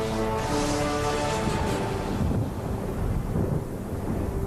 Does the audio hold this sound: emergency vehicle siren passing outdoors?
no